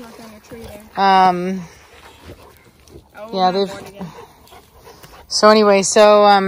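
Dogs meeting a new puppy: bursts of high, tonal whimpering and whining come in short loud clusters, with quieter panting and scuffling between them and no speech.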